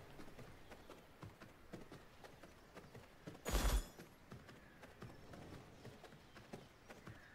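Hoofbeats of a horse in the video game V Rising clip-clop steadily at a moderate distance, with a brief louder burst of noise partway through.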